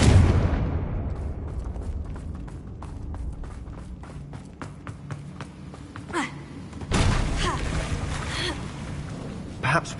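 Confringo spell blast in Hogwarts Legacy: a heavy booming impact opens the clip, followed by a burst of rapid crackling debris and a second rumbling surge, with no talk over it.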